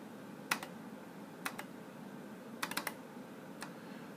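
Sharp computer mouse clicks come in quick pairs, a few distinct double left clicks spaced apart over a quiet room background, close and crisp.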